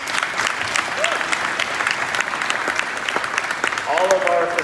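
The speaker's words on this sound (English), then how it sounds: "Big round of applause." Applause from a crowd at a Vaughan city hall event celebrating Italian Heritage Month, a full, steady clatter of clapping with brief voices and a short cheer mixed in near the end.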